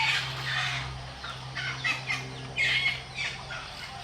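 A flock of native chickens squawks and clucks at feeding time, a busy overlapping chorus of calls with louder bursts, heard close over a steady low hum.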